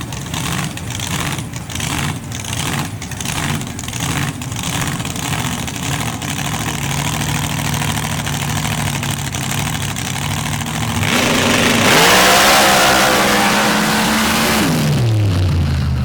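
A supercharged dirt drag racer with a 14-71 blower idles with a loud, lumpy, pulsing rumble at a dirt drag strip, then revs hard into a rising roar before dropping back.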